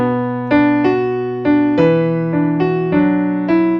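Piano plays a measure from a song with the first quick D left out, as a series of close, ringing chords and notes struck about eight times in a steady rhythm.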